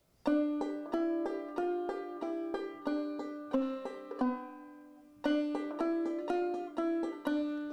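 A clawhammer banjo plays a bright, plucked melody as a single line with the fifth string in between notes, in a steady rhythm of quick notes, with a short pause before the picking resumes; no talking.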